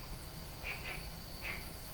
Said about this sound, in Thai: อย่างเราเนี่ยจะได้ยินเสียงเขียดร้องอย่างเงี้ย